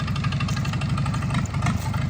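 An old, smoky tractor engine idles steadily nearby, a loud, continuous low chuffing rumble with a regular pulsing beat throughout.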